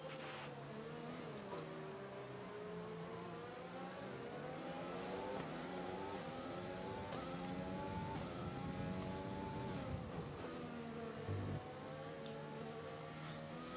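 An F1 racing video game car engine, racing at Canada, revs and shifts continuously at full volume, with rising and falling whines through gear changes and a brief tire squeal, no talk over it.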